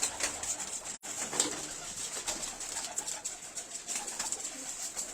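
Pigeons for sale in a loft coo softly and repeatedly, a steady murmur of overlapping calls from several birds nearby, with no talking.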